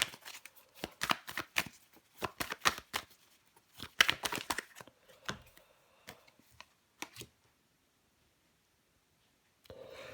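Tarot cards handled on a table, with crisp rapid slaps and riffling shuffles in quick bursts, then a pause and a single card laid down near the end, close and fairly quiet.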